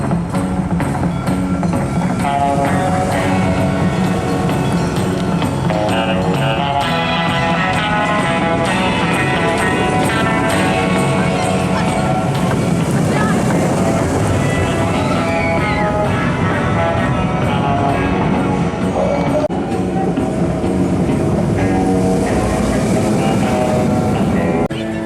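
Riding in the front row of the Gold Rush family roller coaster train at Drayton Manor at Christmas, a loud continuous rumble of wheels on track with rattling and wind noise throughout.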